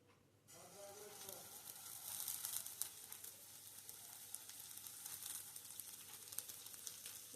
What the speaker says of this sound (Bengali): এবার দিয়ে দেবো এই কাঁচা ডালিয়া, একটু ভেজে নেব।